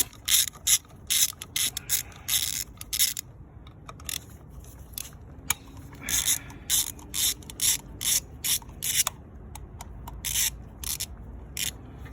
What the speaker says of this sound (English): for the core pack you need a T30 Torx.